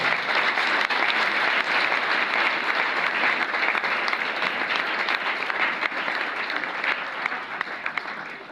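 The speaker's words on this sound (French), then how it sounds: "ils peuvent se lever pour recevoir les acclamations de la salle" A hall audience gives deputies and senators loud, sustained applause, dense clapping that runs steadily without a break and eases slightly at the end.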